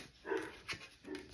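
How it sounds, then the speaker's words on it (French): A dog gives a few soft, close whimpers and small huffs in a short, quiet burst. "C'est mon chien."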